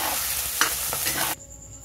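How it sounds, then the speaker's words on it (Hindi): Onion and tomato with a little salt frying in a pan while being stirred for a village-style fish curry, a close, steady sizzle with a couple of scraping stirs before it cuts off. "हम लोग प्याज और टमाटर को अच्छी तरह से गला लेंगे।"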